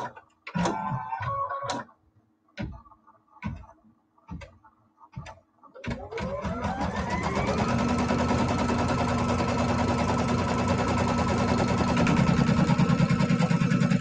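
Embroidery-style sewing machine stitching quilt pieces held in a hoop, starting after a few clicks and taps, then running steadily with a loud, continuous mechanical hum and rapid stitching rhythm.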